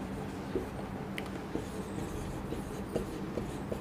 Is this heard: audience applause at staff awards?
no